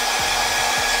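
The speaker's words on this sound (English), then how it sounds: "So I'll go ahead and use my blow dryer" A blow dryer on the cool setting runs steadily while drying a lace frontal wig, a loud, continuous airy rush with a few brief low dips in pitch.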